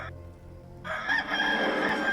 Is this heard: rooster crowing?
yes